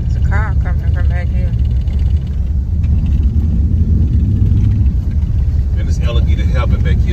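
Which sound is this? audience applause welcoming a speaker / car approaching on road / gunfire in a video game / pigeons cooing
car approaching on road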